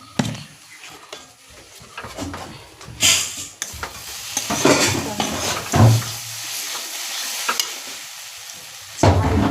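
Vermicelli (shemai) is stir-fried and roasted in a pan with a little salt, giving irregular scraping stirs and soft sizzling with louder bursts of clatter, close by with no talking.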